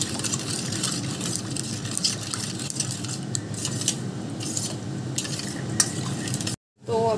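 Moong dal halwa with food colouring being stirred in a pan, a steady close scraping and soft sizzle running continuously, then cutting off abruptly near the end.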